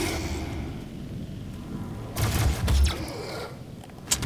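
Shotgun blasts from the DOOM PC game, a pair of loud broadband bursts with low thumps standing out over a steady background of game noise and music.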